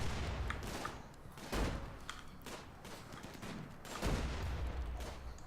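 Bursts of gunfire from the video game Rimworld, rapid fusillades and heavier booms repeating at a moderate level over a low background rumble.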